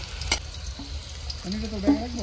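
Food frying in a pan at a winter picnic in a village garden house, a close crackling sizzle with a few sharp clicks, while a voice talks over it toward the end.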